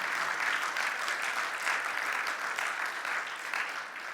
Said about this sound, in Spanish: Dale el aplauso al Señor, fuerte para él